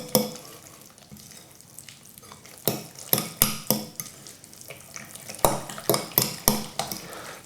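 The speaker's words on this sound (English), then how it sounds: "Put that parmesan cheese in, and again give it another mix." Parmesan cheese is stirred into a white sauce in a pan for a salmon pasta bake, with a spoon scraping and knocking against the pan in quick clustered bursts after a quieter start, close and clear.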